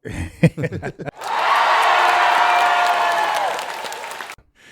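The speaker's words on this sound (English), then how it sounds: "Need a hand clap for that" Applause follows a few seconds of speech at a recovery or testimony gathering celebrating a first sponsee: a dense, steady burst of many hands clapping that holds for about three seconds, then cuts off sharply.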